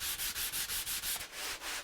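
Sandpaper rubs back and forth on a wooden sword in about seven quick, even strokes. Each pass gives a close, raspy hiss, and then a longer, softer rub follows.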